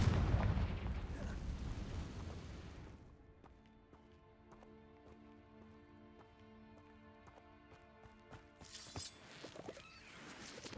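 A Confringo spell goes off in Hogwarts Legacy as a loud, rumbling explosive burst at the start. It fades into quieter game ambience and music, and a second sharp burst comes near the end.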